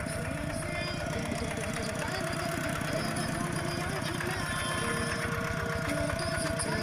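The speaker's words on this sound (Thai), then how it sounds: "เจ้าพ่อรถไถกำลังสิไปไถนาแล้ว" A tractor engine idles and chugs steadily before heading out to plow a rice paddy, a close, even mechanical throb with a faint rattle and no breaks.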